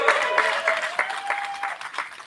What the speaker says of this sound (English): Can I get a round of applause for all of our artists?